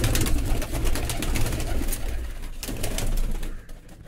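Racing pigeons at a pigeon club coo and call close by, in a loud, dense flurry of bird sounds that fades near the end, with no talking.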